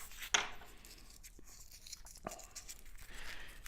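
A piece of material is cut for a SIG Super Chipmunk model airplane build, heard as a quiet close tearing crunch followed by faint scattered clicks and rustles.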